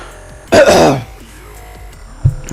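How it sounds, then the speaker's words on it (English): A single harsh, throaty cough bursts out close by, then quiet room noise and a faint thump follow. "Hold on. I have to cough"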